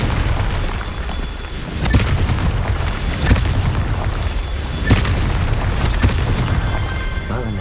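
Blasting-curse spell explosions in the Hogwarts Legacy video game: loud booming bursts repeating every second or so over a dense rumbling background.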